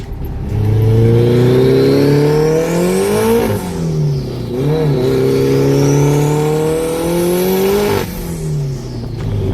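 A 700 HP Honda S2000 engine on a dyno during tuning, loud and close, revs climbing in two long sweeping pulls with a brief dip between, a sharp drop after each peak, no talk.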